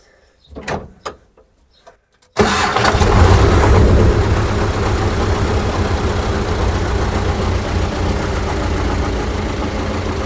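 A T-40 tractor engine starts after a few short cranking bursts, then catches and runs on in a loud, steady rumbling idle close by, with no talk over it.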